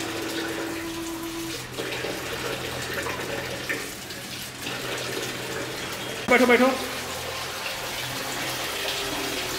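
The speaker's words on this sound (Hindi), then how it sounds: "जग से पानी डालो पूरा," Water poured from a jug over a person bathing at a tap beside a bucket, a steady splashing wash with one brief louder pour, under continuous nearby talk.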